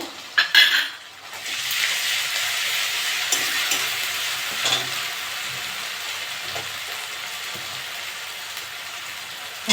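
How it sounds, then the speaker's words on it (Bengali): Fried onions with ginger-garlic paste crackle in a pan for a small-fish recipe with pui greens, potato and pumpkin, an even loud sizzle after a few metal clinks and stirring scrapes up close. "পেঁয়াজটা ভালো করে ভেজে নিয়েছি আদা রসুন বাটা এক চামচ দিয়ে দেবো"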